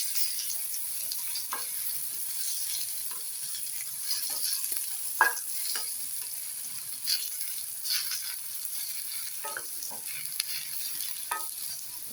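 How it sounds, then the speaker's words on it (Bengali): Eggplant pieces frying in hot oil in a wok, a continuous close sizzle with scattered spatters and occasional scraping stirs, no one speaking. "এবারে আমি এই বেগুনগুলো দিয়ে দেবো। বেগুনগুলো দিয়ে ভেজে নেবো।"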